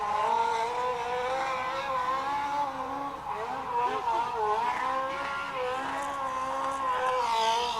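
Race car engine roaring steadily at a drag strip test and tune session, a loud sustained rumble with shifting pitch that holds for the whole stretch, with no pauses.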